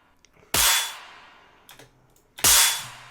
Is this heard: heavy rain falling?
no